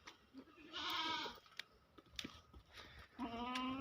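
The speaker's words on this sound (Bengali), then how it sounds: "দেখুন ছাগলগুলো।" Goats on a goat farm bleat in several wavering calls, close and fairly loud, with soft knocks and shuffles between the cries.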